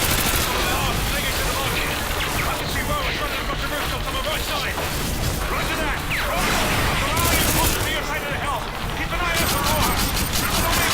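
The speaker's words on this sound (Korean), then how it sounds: "이렇게 수류탄 던지고." A grenade is thrown in the video game Call of Duty: Modern Warfare 2, followed by dense, loud gunfire and explosions that keep up without a break, with a player talking over the combat.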